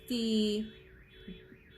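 A car alarm sounds outside: a loud steady electronic tone cuts off, then a warbling siren keeps wailing faintly in the background.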